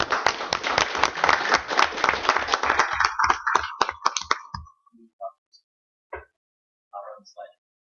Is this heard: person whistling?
no